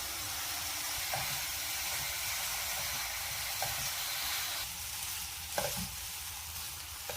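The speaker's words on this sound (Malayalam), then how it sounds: "ഇനി കുറച്ചു നേരം ഇത് പഞ്ചസാരയിൽ കിടന്ന് ഇത് ഇതിൽ പഞ്ചസാര പിടിക്കുന്നത് വരെ ഇളക്കിക്കൊണ്ടിരിക്കണം" Grated coconut stirred in sugar syrup in a pan sizzles with a steady bubbling hiss, and a few soft scrapes of the spoon stand out now and then.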